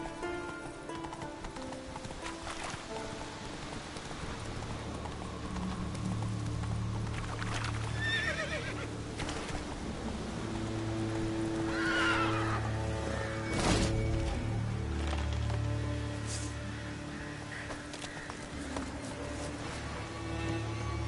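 Horse in Witcher 3 neighing and clip-clopping at a steady run through the Leshen's forest territory, with rain patter and game ambience underneath and a brief voice now and then.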